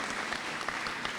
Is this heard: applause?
yes